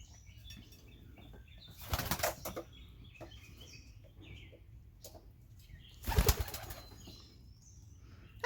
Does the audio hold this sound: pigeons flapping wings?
yes